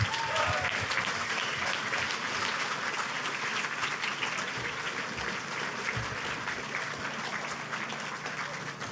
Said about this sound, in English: I know that applause is for all the candidates.